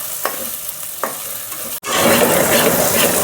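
Green chillies sizzling in a pan of oil for an Andhra-style ridge gourd mutton curry, with two soft stirring clinks early on, then a steady, close frying hiss that swells louder after a brief gap.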